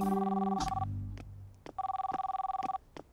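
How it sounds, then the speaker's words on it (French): A mobile phone ringtone trilling in two rapid pulsing bursts separated by a brief gap, fairly close and clear, with a few soft knocks in between. "Tu devrais changer ta sonnerie."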